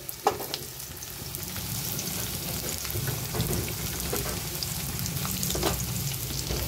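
Potato and pumpkin pieces fry in a pan with a continuous close sizzle like light rain, plus an occasional stir, and no one speaks.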